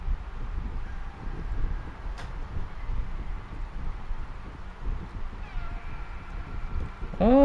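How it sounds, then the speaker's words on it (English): A cat in the Stray video game gives a single short, plaintive meow at the very end, after a stretch of quiet breathy wind ambience. "Oh, sad meows."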